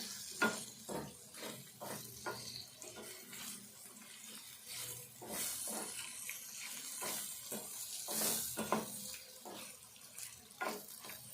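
Ivy gourd and potato curry fries in a pan, a soft steady sizzle broken by repeated scraping and stirring strokes, close and moderately quiet, with no one talking.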